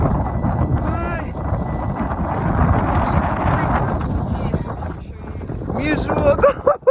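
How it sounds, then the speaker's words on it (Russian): Strong May wind buffets the microphone outdoors on a rough journey in the Komi Republic, a loud, continuous low roar with gusty surges and faint voices underneath. "Вот это ветрище."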